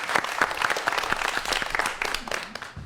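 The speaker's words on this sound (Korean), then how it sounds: "박수 부탁드립니다" Brief burst of audience applause ahead of a lecture on virtual reality, many hands clapping quickly and fading toward the end, fairly close and loud.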